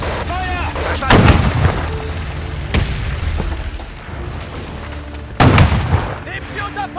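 Gunfire and explosions in the WWII strategy game Men of War II: heavy booming blasts and sharp shots at irregular intervals, the loudest bursts near the start and later on, with voices speaking in between.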